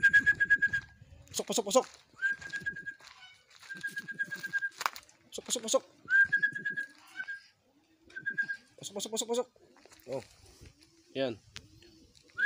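Racing pigeons coo softly at their loft after returning from a 40 km toss, heard beneath frequent close talking and repeated sharp calling whistles.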